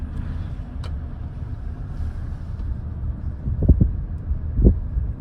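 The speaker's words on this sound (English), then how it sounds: "We've got massive lorries coming up and down the road." Heavy lorries passing on a road, a low continuous rumble with wind buffeting the microphone and a few louder thumps as vehicles go by near at hand.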